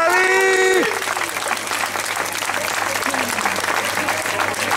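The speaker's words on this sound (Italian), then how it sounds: "Un altro applauso allora, forza!" Audience applause at a dance recital, a sustained crowd clapping that follows a held sung or cheering voice at the start, continuing steadily with faint voices mixed in.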